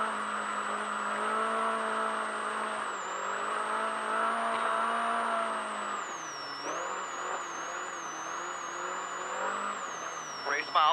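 An off-road race vehicle drives in the SCORE Baja 1000, its engine whining and shifting pitch steadily from inside the cab, with a voice speaking over it throughout.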